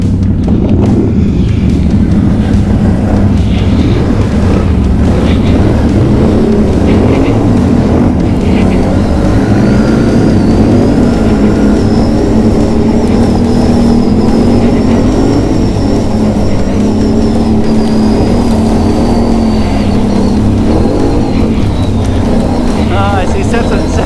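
A Can-Am Outlander ATV engine runs and drives with a loud, steady rumble for the whole stretch, the engine note rising and falling slightly, with wind buffeting and people talking over it.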